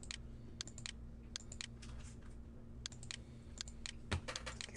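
Clusters of light clicking keystrokes on a computer keyboard come in short, separated bursts at close range, over a faint steady electrical hum.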